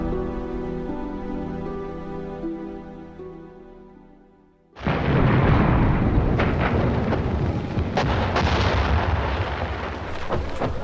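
WWI British week-long bombardment of German defences: a sudden loud, dense roar of heavy guns firing bursts in at about five seconds, sustained rumbling barrage with repeated booms after a quieter tonal passage.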